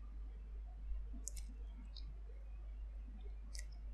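Two or three sharp mouse clicks from a computer setup, brief and faint above a low steady hum with no talking.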